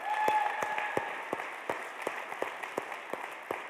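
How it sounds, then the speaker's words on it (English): An audience at a university chancellor's convocation breaks into applause, a burst of many hands clapping indoors that starts loud and gradually thins toward scattered claps. "give a big round of applause for Bear, Edson, and the facilities crew"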